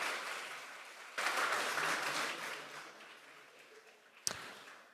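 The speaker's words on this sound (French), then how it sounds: "Je vous demande à tous d'applaudir" Modest applause from attendees at a business tech event after a charter signing: a quiet wash of clapping that swells, then fades, with one sharp nearby clap or knock near the end.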